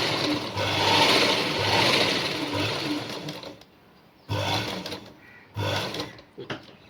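A sewing machine stitching fabric and lining, a loud, close mechanical whir running steadily for about three and a half seconds, then stopping, followed by two shorter bursts of stitching separated by pauses.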